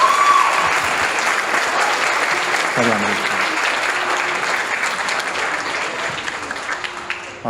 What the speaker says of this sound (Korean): 우리 박수로 크게 격려해 주시는 거 있습니다